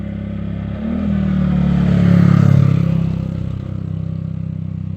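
A motorcycle speeds down a slope on a road during hot weather, its mid-pitched engine swelling louder as it nears and then fading away over about five seconds, with no talking.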